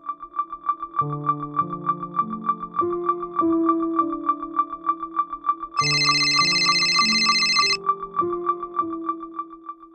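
A phone ringtone plays a repeating electronic melody with a steady pulsing beep behind it, a brighter chime layer joining midway, loud and alone.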